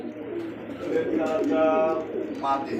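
A pair of long-feathered pigeons coo softly and repeatedly at close range, with a few low rolling calls over faint background noise.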